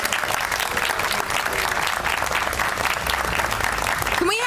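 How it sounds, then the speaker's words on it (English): An audience at the grand reopening ceremony of the Cheviot Branch Library gives a dense, sustained round of applause, loud and even from start to finish. "Can we have one more really enthusiastic round of applause for Taylor and her team?"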